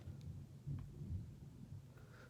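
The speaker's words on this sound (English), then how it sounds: "Why is it thundering outside?" Thunder rumbling outside, a faint low rolling rumble with a couple of slightly stronger swells, distant and subdued.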